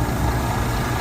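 A Scania 540 truck engine idling, a loud, steady low rumble holding even throughout a brief moment with no other sounds.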